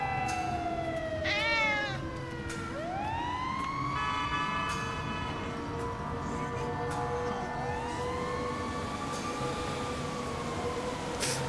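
A cat meows in the GTA 5 video game, with several drawn-out, rising and falling meows in the foreground over a constant background hum and a wailing siren-like tone.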